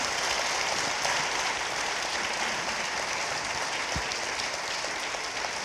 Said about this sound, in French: On vous applaudit, on vous remercie